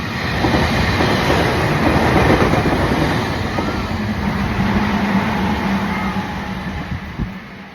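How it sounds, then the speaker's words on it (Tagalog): Trains arrive and pass close by, a loud continuous rumble and roar of wheels on rail with rhythmic clatter and a faint squeal, steady throughout with no talk. "Ah, nag nag-abot ang mga train, no?"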